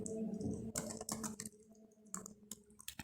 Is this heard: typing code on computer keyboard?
yes